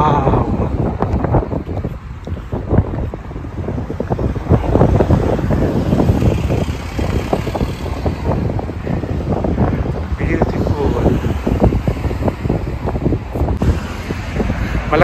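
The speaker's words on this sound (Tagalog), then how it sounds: "Malakas ang hangin." Strong wind buffets the microphone in a steady, loud roar that runs throughout, with a voice speaking intermittently underneath, outdoors in Dinant, Belgium.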